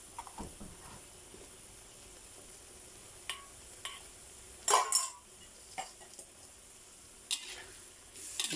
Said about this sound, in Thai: แล้วก็ใส่มะเขือเทศลงไปเลยให้มันสุก